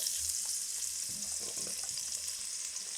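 Onions, celery and peppers frying in a hot pot over lowered heat, a steady close sizzle with a few soft stirring knocks partway through.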